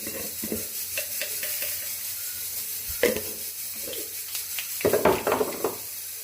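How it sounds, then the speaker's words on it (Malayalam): Mustard seeds spluttering in hot oil for a Kerala beef curry: a steady sizzle with sharp crackling pops that bunch up near the end, with occasional stirring scrapes and no talk. "കടുകിട്ട് കൊടുത്ത് കടുകൊന്ന് പൊട്ടുമ്പോൾ"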